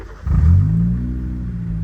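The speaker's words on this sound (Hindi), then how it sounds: "आई ना आवाज एग्जॉस्ट की" Exhaust of a modified car, Project FX, fitted with new rims and tyres, barks as the engine revs once, a deep rising growl that swells quickly and then settles into a sustained low drone, loud and close, with no talking.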